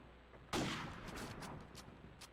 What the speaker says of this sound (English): I'm gonna shoot him again.